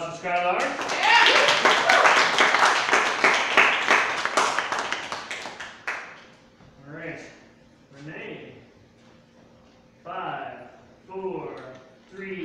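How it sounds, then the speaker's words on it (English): A live audience at a head-to-head poetry slam bursts into loud, dense applause with cheering for several seconds, then the clapping dies away as a performer begins speaking between short pauses. "So another round of applause for Skylark."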